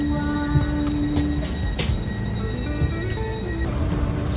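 A train runs along its rails in Italy, near Ravenna, with a steady rumble from inside the carriage. Squealing wheels and tonal hums rise and fade across the ride, and brief clicks break through.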